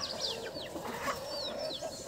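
Free-range desi chickens and roosters of the Aseel breed on an open farm, clucking and squawking in overlapping calls over a steady outdoor background, fairly close.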